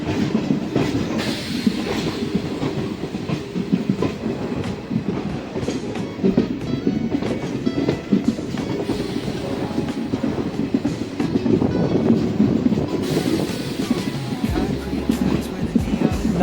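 A DEMU passenger train running from Dandeli to Alnavar, heard from inside the carriage: continuous rumbling and rhythmic rail clatter for the whole stretch, loud and close, with occasional squeaks.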